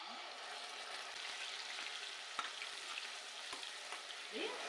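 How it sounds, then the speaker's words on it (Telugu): Onion paste frying in about five spoons of hot oil for a chicken gravy curry, a steady close sizzle and crackle that runs unbroken, with a few soft ticks and a faint scrape near the end. "ఆయిల్ వేడైంది ముందుగా ఆనియన్ పేస్ట్ వేసుకున్నాం"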